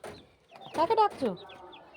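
Chickens at a village house give a few short clucks and calls, close and fairly loud, in a brief burst.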